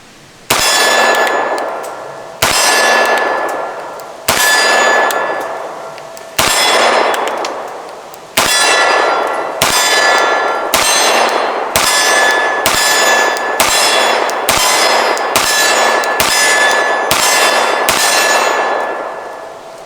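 Fifteen double-action and single-action pistol shots ring off a steel target, each a sharp metallic clang with a lingering ring. The first few come slowly and spaced apart, then the strikes follow in a quicker, even rhythm.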